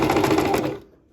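A sewing machine runs a fast, even stitching rhythm along a fabric hem, close and fairly loud, then stops abruptly with a short fade to quiet.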